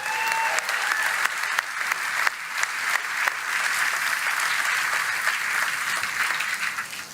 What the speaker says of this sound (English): So let's give all these workers one more big round of applause.